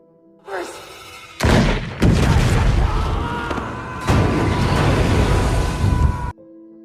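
A gas balloon blows up with a loud, sustained blast in a horror film scene, one roaring boom followed by further heavy rumbling impacts and debris noise before it cuts off.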